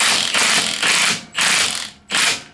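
Nuts on a Honda Talon radius arm are snugged down with a ratchet wrench: three quick, loud bursts of close clicking, separated by brief pauses.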